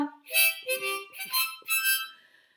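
A harmonica plays a short bright phrase of several reedy chords, close and clear, with no talking.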